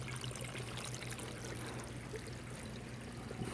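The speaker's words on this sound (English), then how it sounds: "There was too much splashing up here, so I put a jar just to kind of absorb the splashing." Water from an aquaponic garden splashes and trickles steadily into a jar, a continuous soft pouring and dribbling with no voices over it.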